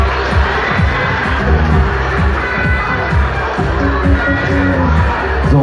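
A festival raffle audience applauds, with a loud, dense wash of clapping and crowd noise that holds steady for several seconds.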